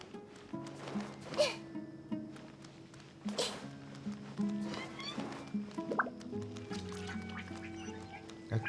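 Meows from a cat in the video game Genshin Impact, set in the Sumeru region, come as several short calls spread over a quiet game soundscape with soft musical tones and no clear talk.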